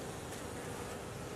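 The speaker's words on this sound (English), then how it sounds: "Still a lot of bees in there." Dense, steady buzzing of a large mass of honeybees inside a hollowed tree cavity being cut open, a continuous close drone filling the whole moment with no talk.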